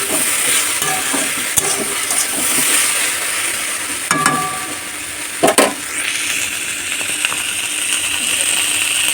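Okra with onion and prawns cooks in a pan, giving a continuous frying sizzle broken by repeated scraping and stirring strokes of a utensil and occasional clatters against the pan.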